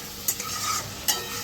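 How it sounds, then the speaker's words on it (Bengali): Prawns fry in a pan with a dense, close sizzle, with two quick scraping clinks of a utensil stirring them. "চিংড়ি মাছটা ভাজা ভাজা মতো হয়ে গেছে।"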